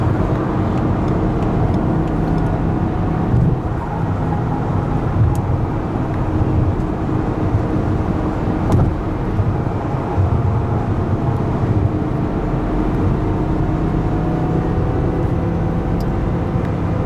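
Steady, loud supercharged V10 engine roar from inside an 800 hp G-Power BMW M5 in third gear at speed on the German Autobahn, with constant road and wind noise throughout and no talking.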